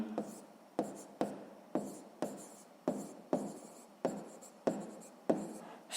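A pen writes on paper while a sixth-grade math exercise is worked, giving about ten quiet scratchy strokes at an even, regular rhythm in a hushed room.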